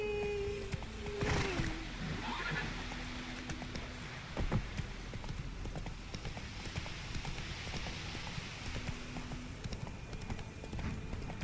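Roach, the horse in The Witcher 3, gallops along at a steady clip-clop of hooves, the hoofbeats running continuously under the game's ambient sounds with a brief whinny early on.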